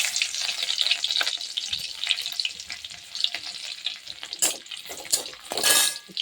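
Garlic and dried red chilies sizzle in hot oil over a low gas flame, giving a steady frying hiss that swells into a louder burst near the end, with no talking.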